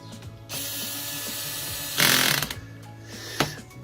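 Ratchet clicking as it tightens decorative screws on an aluminum Team DC 2.2 bead lock wheel for an 8x8, with a steady ratcheting run followed by a louder burst and a final sharp click, close and alone.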